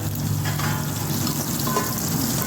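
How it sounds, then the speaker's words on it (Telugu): Eggs sizzle loudly and steadily in a hot pan, a close, continuous crackle of frying oil with no talking. "గుడ్లు వేగిపోయాయి కదా"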